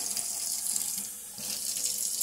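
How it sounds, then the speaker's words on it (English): Hot water pours from a kitchen tap into a sugar mix for hummingbird nectar, a close continuous splashing hiss that dips briefly midway, with no voices. "put a little bit more hot water in there."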